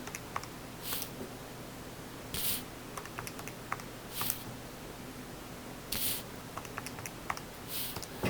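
Keys on a calculator are tapped in short clusters of soft clicks, close and quiet, with pauses between entries and no talk.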